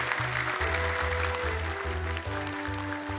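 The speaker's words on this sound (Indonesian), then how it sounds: "Tepuk tangan dong untuk mereka." Studio audience at an Islamic children's Quran memorization contest applauding the young contestants, steady clapping heard over a loud backing music track with a pulsing bass line.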